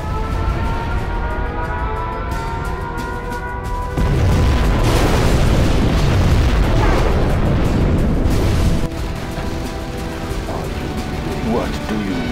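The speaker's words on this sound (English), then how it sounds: "We have launched our nuclear missile." A nuclear missile strike in Command & Conquer Generals Zero Hour detonates in a heavy, rumbling boom that swells loudly in the middle and then recedes into crackling battle noise, with tonal game sounds around it.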